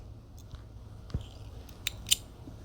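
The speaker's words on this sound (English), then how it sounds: "Now we repeat the operation, making one more opening, taking great care not to cut the fabric." Scissors snipping an opening in the fabric of a pajama waistband, a few faint, brief cuts spread out over near-silence.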